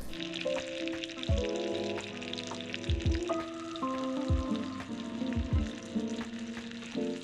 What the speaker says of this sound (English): drop it right into that hot butter. Ooh, it's sizzling right away.